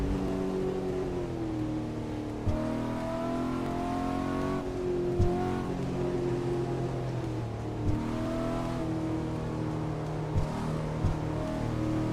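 A racing car engine in the Assetto Corsa simulator game revs up and down through repeated gear changes, its whine climbing and dropping with brief dips between shifts, moderately loud and steady with no speech.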